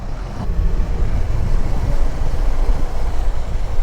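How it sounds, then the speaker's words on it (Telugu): A roadside mountain waterfall on the Jammu to Srinagar highway, a loud, continuous rushing roar of falling water mixed with wind buffeting the microphone. "ఒక మంచి వాటర్ ఫాల్"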